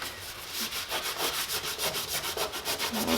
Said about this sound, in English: we need to sand